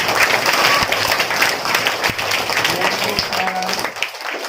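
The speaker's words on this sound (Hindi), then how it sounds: "तालियां बजाओ इसके लिए" Classroom applause for a schoolchild who recited a pledge, a fairly loud, steady patter of many hands clapping for several seconds, with a teacher's voice breaking through near the end.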